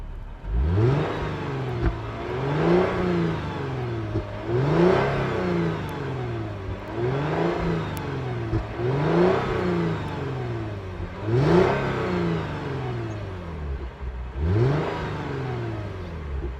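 A 2015 Lexus GS350 F-Sport exhaust revs repeatedly in sport plus mode, each loud rise and fall of the engine coming in a steady rhythm of about six blips, heard up close with no talking.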